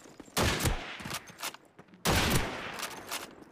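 Gunfire in the video game Call of Duty 2 comes as two loud bursts of rapid shots a second or so apart, each followed by ringing decay, close and dominant.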